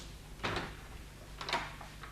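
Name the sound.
door being opened gently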